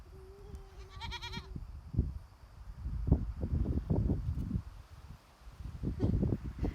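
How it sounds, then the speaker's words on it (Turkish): Goats and kids bleat several times in short, wavering calls at close range, mixed with rustling and shuffling movement. "Ay canım keçi, tatlı keçi."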